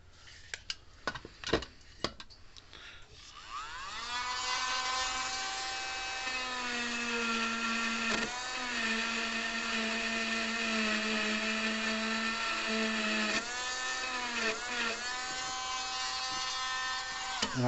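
Sanding on an old Sears mechanical electric fence charger: a steady, buzzing motor-driven whine close by, running continuously for most of the clip with a brief break midway, after a few short clatters at the start.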